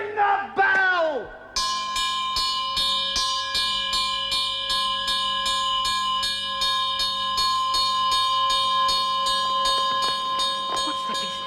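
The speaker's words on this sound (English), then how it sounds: "Ring the bell!" A bell rings an alarm in a staged audio performance of Macbeth, struck over and over in a steady loud clangour after a shouted cry from a man.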